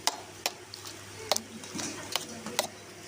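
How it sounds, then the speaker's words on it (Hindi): A spoon stirs turai (ridge gourd) sabzi with banana in a pan, giving sharp scraping clicks at irregular intervals over a soft background sizzle. "मिक्स करेंगे हम।"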